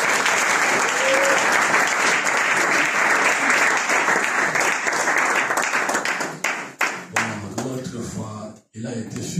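A church congregation at a Sunday service bursts into loud, sustained applause and cheering that fills the hall, then thins into scattered claps as voices rise and a speaker begins talking over the fading crowd.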